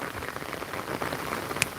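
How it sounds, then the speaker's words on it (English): Rain pattering steadily on a small umbrella attachment held outdoors, a dense, even patter with a brief sharper tap near the end and no talking. "try and stop the rain getting on the screen"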